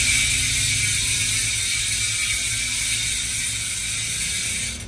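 A spinning Paps Pro 1 V5 bicycle hub sends out a dense, loud ratchet buzz from close by. The clicks blend into a steady hissing whir that fades slightly at the end, and no one talks.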